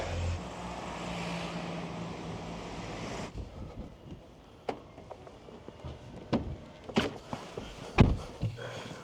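A car driving along the road, heard as a steady rumble of road and engine noise that eases partway through, then gives way to scattered bumps and knocks, with no voices.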